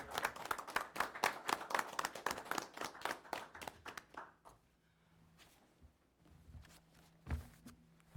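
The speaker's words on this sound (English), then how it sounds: "why don't we give him a round of applause" A small group at a town Board of Selectmen meeting gives a brief round of hand clapping that fades out after a few seconds, leaving a quiet room with faint shuffles and a thump.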